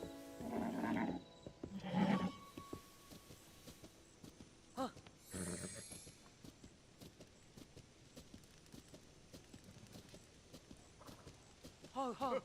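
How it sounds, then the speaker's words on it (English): Hooves of a giant white horse clip-clop in a Zelda video game, with irregular steps under bursts of game sounds and a few short loud accents. "Giant white horsey!"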